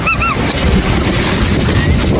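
Ocean waves wash onto a beach in Goa, with a loud, continuous surf roar and wind buffeting the microphone, while brief high cries sound early on.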